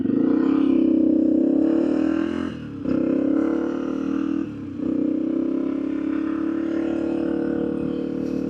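Small 31-year-old 250 motorcycle ridden on the street, its engine droning steadily and loud close by, with two brief dips as the throttle eases off before it settles back into a constant hum.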